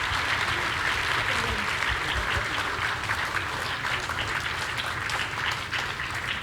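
An audience at a cultural concert claps steadily for the performers, a dense, loud wash of applause that holds for several seconds without letting up.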